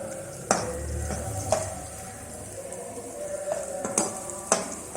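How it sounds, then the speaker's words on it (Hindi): Carrots sauté in a pan for chicken fried rice, a continuous sizzle punctuated by several sharp knocks and scrapes of a spatula stirring against the metal, heard up close with no talking. "थोड़ा सा इसको गाजर को सौते करें"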